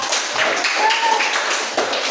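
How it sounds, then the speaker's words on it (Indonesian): A classroom group of students clapping for group 4 after their presentation, a steady wash of hand claps running throughout with a brief voice in the middle. "Tepuk tangan untuk kelompok 4."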